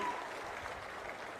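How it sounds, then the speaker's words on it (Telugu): Steady applause from a crowd of farmers at a West Godavari gathering, a dense, even patter of clapping that holds at moderate volume for the whole short stretch. "గట్టిగా చప్పట్లు కొట్టి అభినందించండి."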